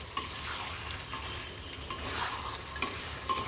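Meat being stir-fried into spice paste in a pot, a quiet continuous sizzle broken by a few sharp scrapes and clinks of a spoon against the pan.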